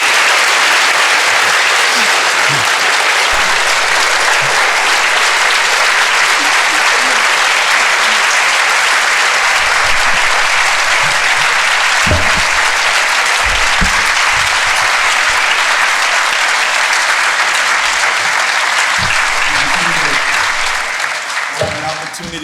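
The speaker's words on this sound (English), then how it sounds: "So another round of applause for Ellie." A live interview audience gives a long, sustained round of applause, dense and loud clapping filling the room for over twenty seconds before starting to taper off at the end.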